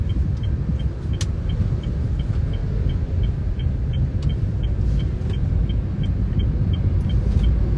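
Steady engine and road rumble fills the cabin of a car being driven, heard from inside as a constant, moderately loud drone with faint small clicks and no talking.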